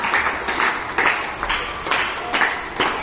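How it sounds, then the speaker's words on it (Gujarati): An audience claps for Pratiksha during a memory and concentration game, a thin patter of claps arriving in repeated short bursts at a fairly even pace, moderately near. "ચાલો પ્રતીક્ષા માટે તાળી પાડો."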